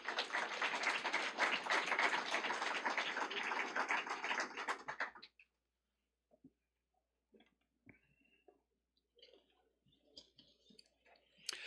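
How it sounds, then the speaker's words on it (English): An audience claps at a career and technical education signing day ceremony, a full burst of applause lasting about five seconds before cutting off into quiet room noise and scattered taps. "let's give them a round of applause"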